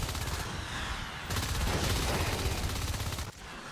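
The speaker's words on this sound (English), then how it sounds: "That was some fantastic shooting." Rapid gunfire from the competitive online shooter Natural Selection 2, heard in a qualifier match: dense, sustained automatic bursts that run almost without pause and stay loud and close throughout.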